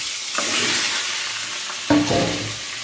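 Potatoes, cauliflower and carrots fry in a pan with green chillies and spices, giving a steady close sizzle broken by two louder stirring scrapes.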